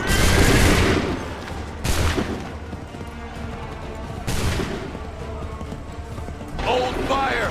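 A musket volley from a line of soldiers in Assassin's Creed 3, heard as several broad, loud bursts of massed fire at irregular intervals, each one trailing off into rumbling reverberation. Voices shout commands in between the shots.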